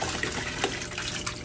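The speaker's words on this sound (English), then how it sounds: "the old water, dirty water from the fish tank, to just rinse off the net as I go" Old, dirty aquarium water splashes and trickles as a fish net is rinsed off, a close, continuous watery wash with small bursts throughout.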